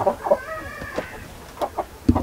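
O Shamo and Chu Shamo chickens on a poultry farm, including a moulting adult hen, clucking close by in short, irregular calls with a few sharper squawks, no talk.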